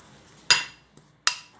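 A wooden spoon mincing lemon skin in a bowl while making lemonade gives two sharp, close knocks with a bright ringing decay, about three-quarters of a second apart, with one faint tap between them.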